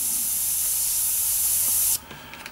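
A Tamiya HG SuperFine airbrush sprays in a loud, steady, close hiss for about two seconds, then cuts off abruptly, leaving a faint background hum and a few small clicks, likely from the compressor.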